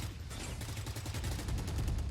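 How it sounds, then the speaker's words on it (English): Rapid, dense gunfire in a Valorant esports match at Valorant Champions 2024, Fnatic versus Team Heretics, with overlapping bursts of shots rattling continuously and loudly throughout, a caster's voice faintly under the fire. "And that's a lot of gunshots from Fnatic."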